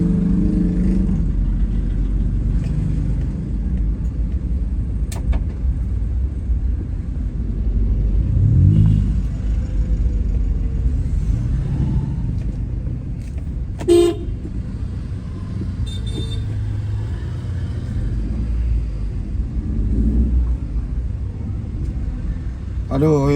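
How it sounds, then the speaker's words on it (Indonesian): City traffic jam in Makassar before the evening fast-breaking, with a steady low engine rumble and several short car horn toots throughout, heard from inside a moving vehicle while a person talks over it. "mobil macet ini"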